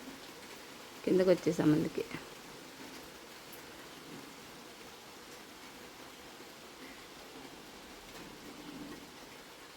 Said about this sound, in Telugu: వర్షం పెద్దగా అయింది ఫ్రెండ్స్